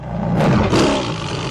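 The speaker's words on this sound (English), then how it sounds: "First, a puppet tiger surprises Bond, and then this happens" A loud tiger roar from a puppet tiger in the Bond film Octopussy fills the whole moment, one sustained rumbling growl that swells and holds, with no talk over it.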